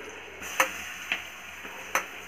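Chopped onions fry in ghee and oil with a steady, soft sizzle, while a utensil taps the pan a few times, clicking sharply and close.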